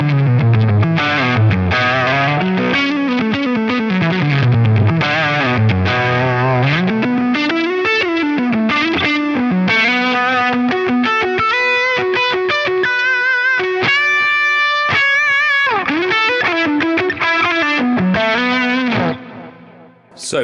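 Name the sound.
distorted electric guitar through Line 6 Pod Go preset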